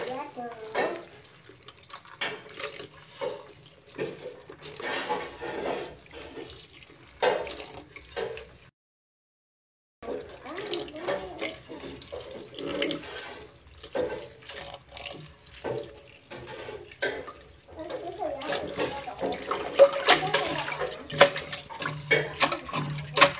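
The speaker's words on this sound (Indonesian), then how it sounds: "Ini terus ini kita cuci sampai betul-betul warnanya jernih." Running water from a tap splashes steadily while papaya leaves are washed one by one, continuous and close with a short break midway, as a person talks over it.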